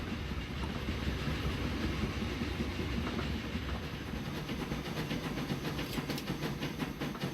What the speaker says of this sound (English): And we just have to wait for the train to clear in front of us.